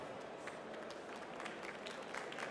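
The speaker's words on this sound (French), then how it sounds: "Encore plus d'applaudissements, mesdames et messieurs." Audience at a cheese awards ceremony in Lyon, a faint, steady patter of many hands clapping together, heard from a distance with no single clap standing out.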